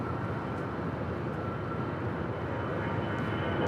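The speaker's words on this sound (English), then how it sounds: "This is Air Tahiti Nui Flight 8 coming in from Papeete, Tahiti, a 787-9 Dreamliner." Air Tahiti Nui Boeing 787-9 Dreamliner arriving at LAX from Papeete: a steady, broad jet roar holds at one level throughout, with no voices over it.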